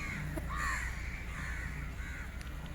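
Several crows caw in overlapping calls, moderately close, at a garbage dump, over a steady low rumble of background noise.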